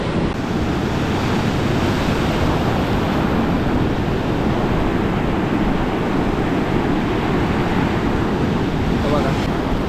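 Loud, continuous roar of big ocean waves breaking, heavy with low-end wind buffeting on the microphone, unbroken for the whole stretch.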